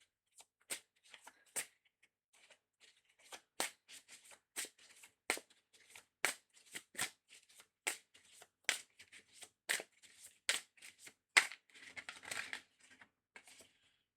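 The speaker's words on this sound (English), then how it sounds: "I'll get the tarot cards out first." Tarot cards being shuffled close up in a quiet room, a series of soft crisp riffling bursts at irregular intervals, growing busier toward the end, no speech.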